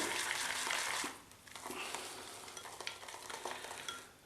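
A shaving brush swirls in a bowl of Traditional Shaving Company sandalwood shaving cream, giving a continuous wet, lathery crackle with soft rhythmic strokes, close and moderately quiet.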